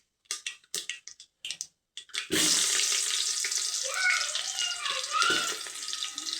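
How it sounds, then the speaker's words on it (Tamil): Sliced onions hit hot oil with fenugreek and mustard seeds for egg sambar, starting as a few short bursts, then a continuous bright sizzle and crackle, close and fairly soft. "நெக்ஸ்ட்டு வெங்காயம் போட்டுக்கலாம்."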